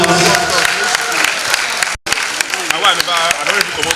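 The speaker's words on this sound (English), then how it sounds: "Can you do that with a round of applause?" Summit audience applauding in a round of applause, dense steady clapping from a large crowd that fills the hall, with a brief break and voices talking over the clapping.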